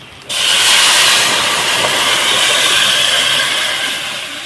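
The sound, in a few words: water poured into hot pan of fried spices for fish curry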